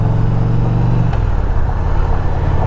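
Indian Pursuit motorcycle engine rumbling loud and steady up close, its low drone dropping in pitch partway through as the rider shifts gears with some clutch slipping, then settling at a new note.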